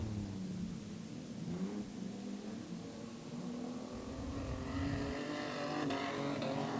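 A street stock race car in a feature race runs rough on four cylinders, its engine drone rising and falling at a distance as it slows, heard alone without talk.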